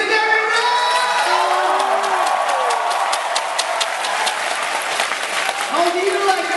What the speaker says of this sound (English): 掌声欢迎 Mr. Derrick Rose!